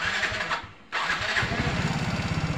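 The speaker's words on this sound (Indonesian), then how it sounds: "Kita coba cek untuk starter tangannya apakah sudah jadi atau belum" A motorcycle's electric starter cranks briefly, drops out for a moment, then the engine catches and settles into a steady, close, loud idle with an even pulsing rhythm.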